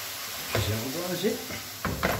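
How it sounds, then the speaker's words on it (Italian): Tortiglioni pasta with sausage and zucchini is tossed in a hot pan, giving a steady sizzle with a couple of scraping stirs, while a voice speaks briefly. "Iniziamo a saltare la nostra pasta."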